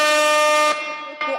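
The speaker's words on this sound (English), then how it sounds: "I love that air horn" A loud air horn sound effect blasts in one sustained, brassy tone, dips briefly, then sounds again in a short final burst.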